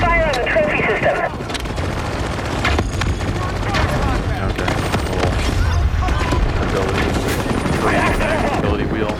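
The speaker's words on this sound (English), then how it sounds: "We're taking heavy fire." Heavy gunfire and explosions from a video game trailer fill a dense, loud battle soundscape, with rumbling blasts and continuous combat noise throughout and voices talking over it.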